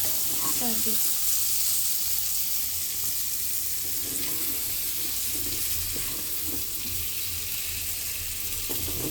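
Garlic chili chicken fry crackles and sizzles in a pan, a steady low frying hiss with occasional stirring clinks, fairly quiet and continuous with no speech.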